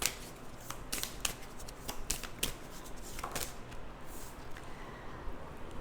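Tarot cards being shuffled by hand, a quick run of crisp riffling flicks and soft slaps at close range, with no voice over them.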